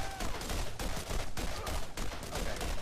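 Dense, continuous gunfire in the video game Borderlands, overlapping rapid shots and bursts at steady loudness throughout, with no talk heard.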